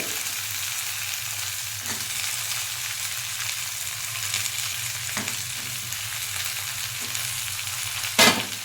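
Onions and garlic frying in a pan of oil for a fish and tomato curry, a steady close sizzle and crackle throughout, with a brief stir or clatter near the end and no talking.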